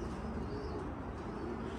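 Pigeons in a home loft, including birds newly arrived from Sulaymaniyah, coo faintly and steadily in low, soft murmurs under a constant background hum.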